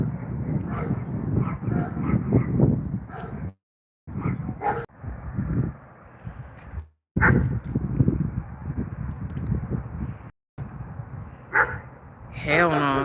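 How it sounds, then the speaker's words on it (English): Several dogs fighting and barking in San Diego, with sharp barks, yelps and snarling scuffles in close, loud bursts broken by brief silences, while excited voices talk over the commotion. "The dogs are attacking each other."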